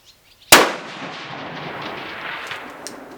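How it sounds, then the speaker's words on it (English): A 6.5 Creedmoor rifle fired outdoors at a long-range target, a single loud sharp crack up close followed by a long rolling echo that fades slowly over the next few seconds. "Pop that time. 2 shots."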